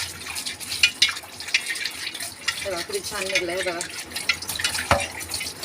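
Running water rinses a scrubbed iron tawa, with splashing and dripping throughout and a voice speaking over the washing.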